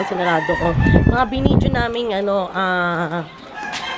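Chickens cluck and cheep close by while a person talks over them, the bird calls rising and falling throughout.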